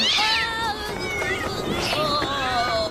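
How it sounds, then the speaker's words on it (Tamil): Several cartoon cats meowing and caterwauling together in a tub, a dense chorus of overlapping yowls that stays loud and close for the whole stretch. "இந்த மீன் எண்ணெயை இவ மேல கொட்டி பூனைங்க நிறைய இருக்கிற தொட்டில விழுந்து எழுந்திருச்சு வருவான்"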